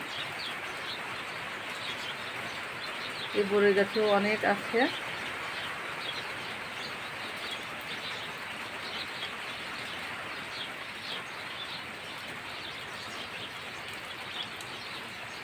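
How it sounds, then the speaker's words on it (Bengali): Steady rainfall from a low-pressure system hisses throughout while sparrows chirp faintly and sporadically in the background; someone speaks briefly near the start. "নিম্নচাপে বৃষ্টি হচ্ছে দেখেন চড়ুই পাখিগুলো"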